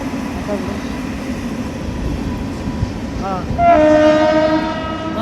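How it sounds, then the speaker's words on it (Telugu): Background rumble and faint voices, then a loud train horn sounds near the end with steady tones over the rolling train, near Durgam Cheruvu lake in Hyderabad. "ఒక్క నిమిషం ట్రైన్ వెళ్తుంది"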